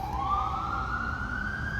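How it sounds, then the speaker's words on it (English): An ambulance siren passes on a road, its steady wail slowly rising in pitch over a bed of traffic rumble, fairly close and continuous. "it has to be an ambulance"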